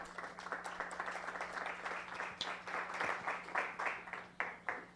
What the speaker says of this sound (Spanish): por favor un aplauso para Miguel